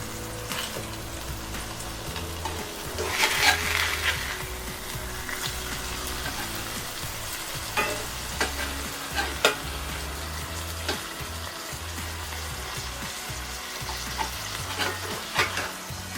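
Cod fillets sizzle steadily in oil in a cast iron skillet, a constant crackling hiss with occasional light clinks and scrapes, close and without talking.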